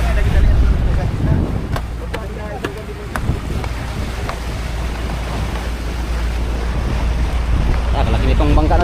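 Engine drone of a fishing boat out at sea on the Pacific, steady and close, with wind buffeting the microphone and water rushing throughout, plus a few sharp knocks early on.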